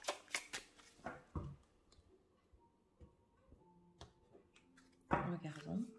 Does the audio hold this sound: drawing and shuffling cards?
yes